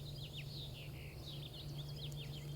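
Morning birdsong drifting in from a distance, a scatter of soft, high chirps and short whistled phrases repeating over a faint steady hum, no voices.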